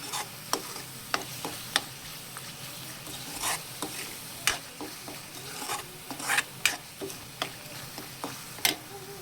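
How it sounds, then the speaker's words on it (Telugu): Spiced masala of salt, turmeric and chilli powder frying in oil over lowered flame for Telugu prawn and gongura curry, a steady close sizzle under frequent sharp spatula scrapes and taps against the pan. "కొంచెం బాగా పచ్చివాసన పోయి కొంచెం ఆయిల్ తేలేంత వరకు కొంచెం బాగా వేయించుకోవాలి"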